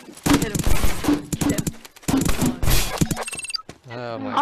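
Rapid bursts of gunfire in a Call of Duty Warzone battle royale match, loud repeated shots in dense clusters with a brief pause partway through, mixed with players' voices.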